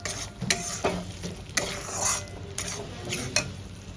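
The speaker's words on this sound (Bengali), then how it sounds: "আলু দিয়ে মশলার সঙ্গে ভালো করে কষিয়ে নিয়েছি।" Potatoes being stirred and sautéed with spices in oil for a vegetarian chhana bora curry, with soft steady sizzling and repeated scraping strokes of a spoon against the pan, close and alone.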